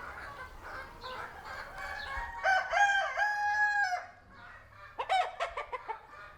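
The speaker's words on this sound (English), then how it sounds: "I just saw a couple of chickens run by" Chickens on a farm with a hatchery crowing and clucking, a clear rooster crow in the middle followed by a burst of rapid clucks, fairly close and loud with no talk.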